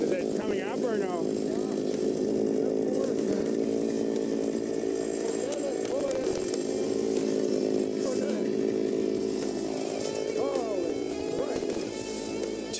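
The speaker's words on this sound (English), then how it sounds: "If he continues to drill straight down, he'll destroy the smaller blade frozen below." A motorized ice auger drones steadily as it drills down through thick ice, a continuous engine roar lasting throughout, with voices talking over it.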